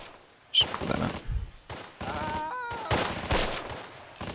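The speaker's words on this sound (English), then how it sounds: "That machine gun's doing some work on us." Machine gun fire in the World War II strategy game Close Combat: Last Stand Arnhem, loud rattling bursts broken by short gaps, with other gunfire and battle noise mixed in.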